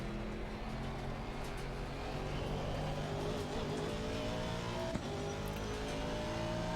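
Race car driven hard in the video game Assetto Corsa Competizione, a steady engine drone with rising and shifting tonal whine under continuous tyre and road noise, moderately quiet.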